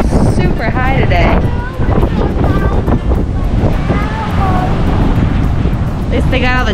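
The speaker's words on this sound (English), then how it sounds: "these are the most intense waves we've seen in Jamaica, and the water level is super high today" Heavy surf pounds a beach in Montego Bay, Jamaica, on a day of high water: a loud, steady roar of crashing waves with wind buffeting the microphone and voices talking over it.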